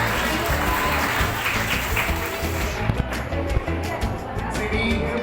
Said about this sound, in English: you all deserve a big round of applause first